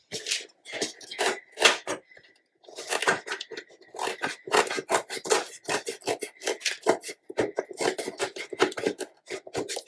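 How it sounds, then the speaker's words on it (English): Scissors snip around the bottom edges of handmade fake gumdrops in quick, close, crisp clusters of cuts and rustles, with brief pauses between bursts. "So you're just going to take your scissors and run it along."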